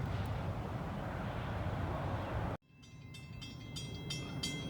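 Steady rumbling train noise cuts off abruptly, then quieter rail sounds build with repeated high metallic clicks and hums as a southbound freight train draws closer at Walton.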